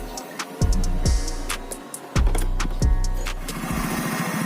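A Honda Vario scooter with a modified aftermarket exhaust is started with a few cranking attempts, then idles with sharp, close, popping throttle blips.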